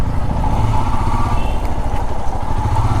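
A motorcycle ridden on an open road at dawn, its engine a steady, loud mid-pitched drone with rumbling low end and no breaks, heard alone without voices.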